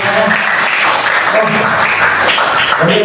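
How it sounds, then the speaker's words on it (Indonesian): An audience applauds loudly and steadily for about three seconds at a gathering in Indonesia, the clapping dense and continuous with a few voices mixed in. "Kasih tepuk tangan buat kalian semua."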